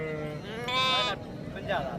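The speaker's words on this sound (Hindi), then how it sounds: "मंडी के अंदर 2 बच्चों वाली भेड़ें आ चुकी हैं" Sheep at a livestock market in Dera Ghazi Khan bleat nearby, one long loud bleat followed by a shorter one, with market chatter and voices underneath.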